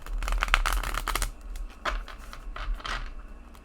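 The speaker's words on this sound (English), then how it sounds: "So let's go ahead and shuffle." A tarot deck, a Druid Craft Tarot, is shuffled by hand in rapid papery riffling bursts, loudest at first and then in shorter intermittent flurries, close up with no talking.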